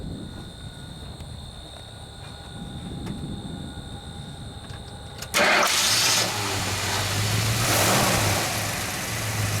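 After a quiet hum, a 1971 AMC Javelin AMX 360 V8 engine cranks and fires with a sudden roar, then settles into a loud, steady rumbling idle.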